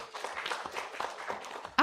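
Audience applause at the Falling Walls Lab pitch event in Yogyakarta, Indonesia: a moderate, dense wash of clapping from a crowd, steady for a couple of seconds before a voice cuts in.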